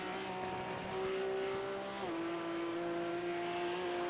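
A GT race car in a sim racing game at the Red Bull Ring accelerates hard, its engine note climbing steadily and holding a loud, sustained drone with a brief dip as it shifts gear.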